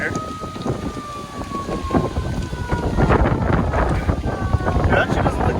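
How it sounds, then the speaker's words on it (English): A siren wails in the distance over a golf course at Marina Bay, its rising and falling tone drifting over heavy wind and rain noise buffeting the microphone. "The sirens are going."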